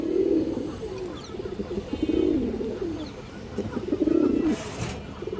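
Kaldam pigeons cooing close by, several rolling, throaty coos repeating in a steady rhythm over a constant low background murmur.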